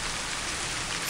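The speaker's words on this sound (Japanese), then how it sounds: "雨なかなか止まないですね。" Steady rain in a Japanese radio drama, a dense hiss of falling drops heard close and unbroken with no voices.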